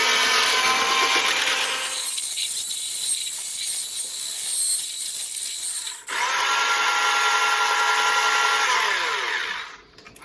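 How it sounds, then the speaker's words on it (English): Butter and sweetener are whisked for keto coconut shortbread with a steady, close motorized whine. The tone shifts around two seconds and again at six, then winds down at the end. "you just need to whisk it."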